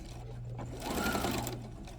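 A sewing machine runs steadily for about two seconds, backstitching bias tape along a neckline seam, its motor hum swelling slightly in the middle stretch with no talking.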